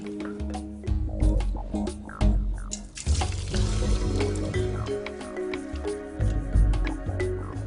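Drained cooked noodles get drenched with ice-cold water from a kitchen tap, a steady close gush of running water broken by clattering, splashing bursts as they are tossed in the stream.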